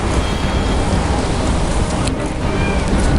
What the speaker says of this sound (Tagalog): Dali, umuulan.